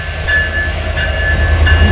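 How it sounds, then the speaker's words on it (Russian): Train rolling past a station in Mexico, a steady low rumble of rail cars with a faint high squeal recurring, continuous and fairly loud with no talking. "Это может означать, что скоро будет поезд"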